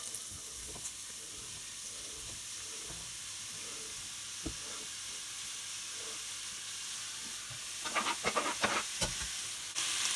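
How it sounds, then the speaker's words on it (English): Chopped vegetables fry in a little oil in a pan for a vegan calypso bean bolognese, giving a steady soft sizzle and hiss throughout, with a few brief clicks and stirring scrapes near the end. "what tends to happen is the vegetables will just absorb the oil. And the idea is to fry."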